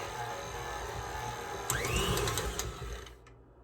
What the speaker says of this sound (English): I'll mix it up, just show it to you guys really, really quick